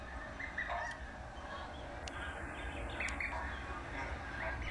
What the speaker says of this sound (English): A million goslings.